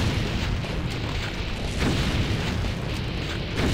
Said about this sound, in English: I hate these portal grenade things.